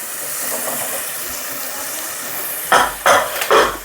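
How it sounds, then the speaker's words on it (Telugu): A steady hiss of escaping steam, then a few sharp bursts of hissing and metallic clatter as a pressure cooker lid comes off after ten whistles. "కుక్కర్ మూత తీసినాను."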